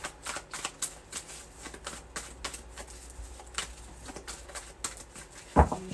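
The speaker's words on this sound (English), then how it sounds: "I'm shuffle twice." Tarot cards riffled and shuffled by hand in a quiet room, a soft rapid flutter of card edges with scattered light taps, close and fairly quiet, ending with a sharper knock.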